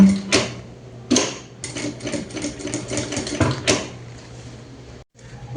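A sewing machine stitches around the edge of an apron in short runs, its motor whirring and needle clattering in bursts separated by brief pauses and clicks as the fabric is turned.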